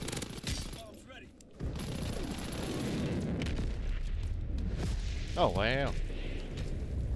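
A V2 rocket explosion in Call of Duty: WWII, a deep rumbling boom that swells and sustains as a long low roar through most of the clip, with a man's exclamation near the end.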